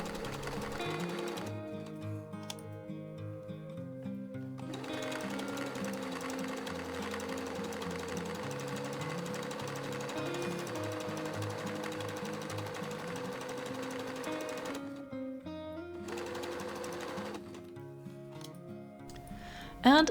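A sewing machine runs steadily for most of the time, sewing gathering stitches on a drawstring dress, with a close, continuous mechanical whir and rapid needle clatter that stops briefly before a short restart.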